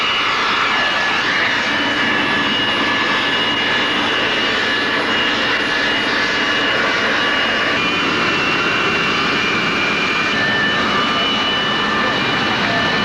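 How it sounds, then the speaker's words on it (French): Jet engines of a Boeing 737 belonging to Mali's national airline roar with a steady, dense whine and rush, loud and unbroken throughout, with no voices. "un 737 de la Compagnie nationale aérienne du Mali."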